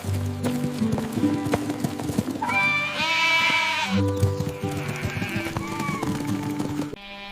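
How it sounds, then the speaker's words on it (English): A small sheep in a shepherd's hillside flock gives a few wavering, anxious bleats, mixed with clopping hooves and other livestock noises close by, with no talking. "David heard a worried little bleat"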